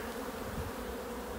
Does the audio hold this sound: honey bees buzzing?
yes